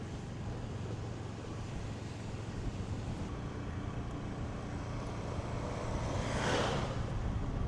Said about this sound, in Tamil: இதில் நிற்கவே எனக்கே தண்ணி பயங்கரமாக அடிக்குது